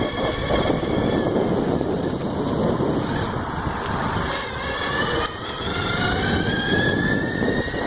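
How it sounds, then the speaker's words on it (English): A CYC X1 Pro electric bike motor drives uphill on throttle alone, not at full power, giving a steady high whine with rising pitch lines over continuous wind and road rumble, close and fairly loud throughout. "The question is can I make it up this without having to pedal? I'm not at full throttle."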